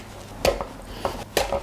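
A knife cuts a crispy Detroit-style pizza into four, giving a few sharp crunching strokes and scrapes against the pan, spaced roughly a second apart.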